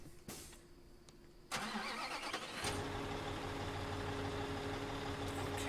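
A spider truck engine in Construction Simulator 2015 starts with a couple of cranking clunks, then settles into a steady, loud diesel idle that runs on unbroken.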